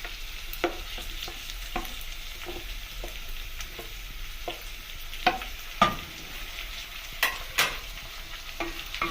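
Tomatoes being stirred into softened onions and oil in a pan for a pork dish, with a steady low sizzle under irregular spoon scrapes and clacks against the pot, several sharper knocks standing out near the end.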